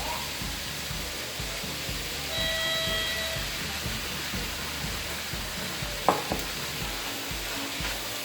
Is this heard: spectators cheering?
no